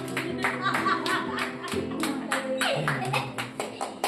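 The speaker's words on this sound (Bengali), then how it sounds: "হাততালি জোরে।" Guests clap in a quick, uneven rhythm of sharp claps as a cake is cut at a Bengali pre-wedding gathering, with voices talking loudly over the clapping nearby.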